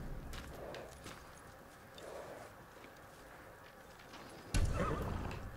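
A white horse in the video game Ghost of Tsushima whinnies loudly over a soft bed of background noise, with muffled hoof steps, and a second sharp neigh bursts in near the end.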